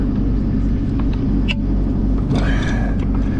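A truck motor runs at a steady idle, a loud, close, low rumbling drone that continues without a break, with a few faint clicks and taps over it.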